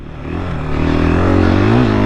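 A 2021 KTM 500 EXC dirt bike on a motocross track, its engine droning loud and close and rising in pitch as it accelerates over two seconds.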